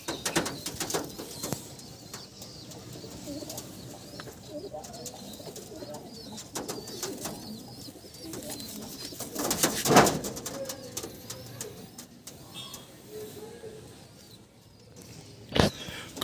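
Pigeons coo softly and intermittently near a rooftop loft after days of rain, with occasional wing flaps and sharp knocks breaking through a quiet background.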